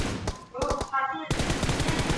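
Gunfire in the mobile battle royale game PUBG Mobile: a burst of rapid automatic shots, then a dense, loud stretch of firing, with a brief tonal game sound in between.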